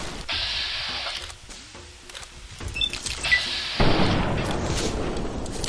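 Gunfire in Fallout: New Vegas: several sharp, booming reports with rumbling tails, the strongest burst arriving late and loud over a dense game-action background.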